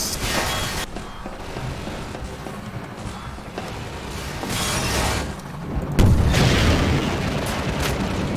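A rocket launcher blast in Half-Life 2 sounds as a booming explosion with a sharp onset late in the stretch, preceded by rumbling, hissing combat noise and smaller pops, all fairly distant and muffled.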